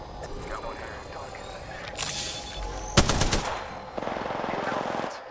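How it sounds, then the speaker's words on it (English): Rapid bursts of video game gunfire, a short volley near the start followed by a loud sustained automatic burst and continued firing, with a voice talking in places. "Shots fired"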